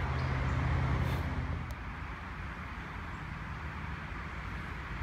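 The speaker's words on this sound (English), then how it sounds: "that noise you hear in the background is a major highway that goes through the area" A major highway drones in the background as a steady, distant wash of traffic noise, constant and moderately faint, with no talk over it.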